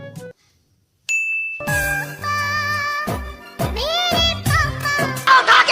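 A mobile phone ringtone plays a bright melodic jingle of chiming notes after a brief silence, with rhythmic bursts and an accompanying beat, loud and close with no talking.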